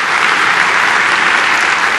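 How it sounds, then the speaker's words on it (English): Audience applause after a panel at an engineering summit, a dense, steady wash of clapping from a crowd, loud and continuous with no gaps. "Give them all a round of applause one more time"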